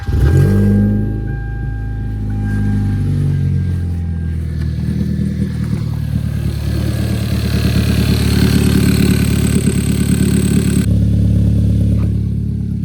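A car engine turns over and settles into a steady, loud idle with a deep rumble and occasional slight revving, close by.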